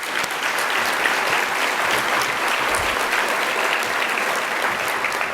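A sustainability summit lunch plenary audience gives a round of applause for the speakers, a loud, dense and steady roar of clapping from a large crowd that continues throughout.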